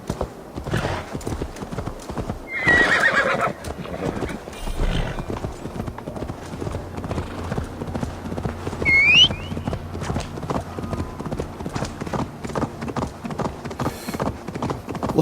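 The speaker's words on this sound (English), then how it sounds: "Can we get on this horse? Come on, horsey." Horse hooves clip-clop steadily in Assassin's Creed Valhalla, with a brief shrill neigh rising partway through, set over continuous game music and ambience.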